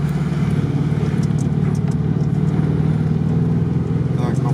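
A ZAZ-968M car at a Monster Trophy off-road event, its engine droning loudly and steadily throughout at close range with a low, continuous rumble, while people talk nearby.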